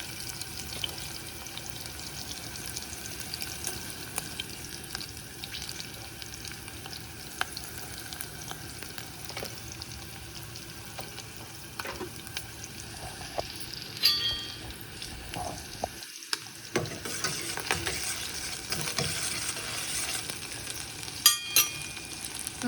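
Onions frying in a pan for a Telangana dish, a steady close sizzle with occasional stirring clatter and scrapes running throughout, alone with no talk.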